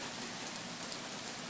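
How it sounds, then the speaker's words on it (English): Heavy Florida storm rain pours steadily onto a flooding front yard, a dense, continuous hiss of drops on surfaces, loud and close with no pauses. "It's been pouring here for about 45 minutes."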